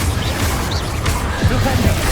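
Spell impacts cast in Hogwarts Legacy, dense overlapping blasts and crashes in rapid succession over a continuous loud low rumble, with a few sharper thuds standing out near the middle.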